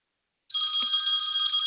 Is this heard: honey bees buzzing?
no